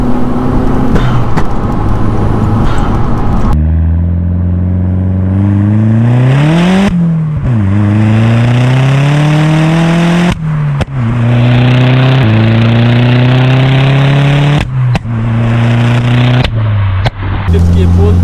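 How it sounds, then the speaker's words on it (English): A modified Audi S3 accelerates hard in fourth gear during a night drive, its engine note climbing steadily in loud sweeping pulls with brief dips at each lift-off, heard from inside the car and running almost without a break. "see how the car pulls now in fourth gear"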